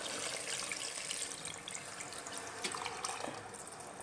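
Measured water poured into a pressure cooker for chicken biryani, a steady close splashing gush that runs throughout.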